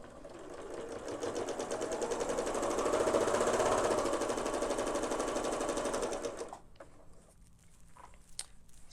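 A sewing machine stitches near a folded fabric edge in a fast, even mechanical rattle for about six seconds before stopping, followed by a few faint clicks and handling sounds.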